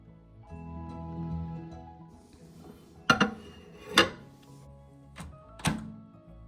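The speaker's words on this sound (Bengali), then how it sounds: "লবণটা ভালো করে খিচুড়ির সাথে মিশিয়ে নিয়ে বাটিটিকে আমি মাইক্রোওয়েভ ওভেনে দিয়ে দেব।" Soft bumps and a few sharp glassy clinks as a bowl of khichuri is set into a microwave oven, with a low hum underneath and no talk.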